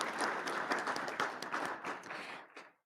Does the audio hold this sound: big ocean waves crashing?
no